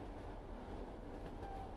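A train runs along the rails with a continuous low rumble and rolling wheel noise, steady and close.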